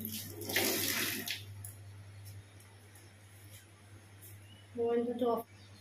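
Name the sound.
washing hands under running tap water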